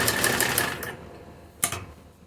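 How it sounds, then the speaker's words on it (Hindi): An electric sewing machine stitches around the round neckline of a kurti, running in a short burst of fast, even whirring, then pausing before a second brief run. "दोनों सिलाई लगा देते हैं।"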